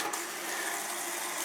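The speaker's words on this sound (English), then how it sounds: "Cold water, plenty of pressure, plenty of volume" Water runs from a repaired faucet in a steady, hissing stream at good pressure, a brief continuous rush heard close with no voices.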